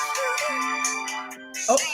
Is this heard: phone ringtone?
yes